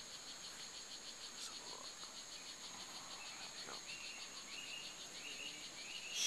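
Tiny strawberry poison dart frogs calling in Costa Rican Caribbean lowland forest, a steady chorus of repeated high chirps with insects and faint birds in the background, no talking.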